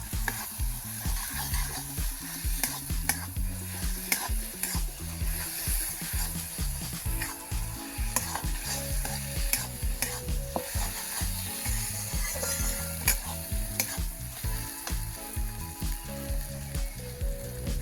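Chicken coated in spices and Kashmiri chilli powder sautés in a pan, giving a loud, continuous sizzle with repeated scraping and clattering strokes of a stirring spoon throughout, close and without talk.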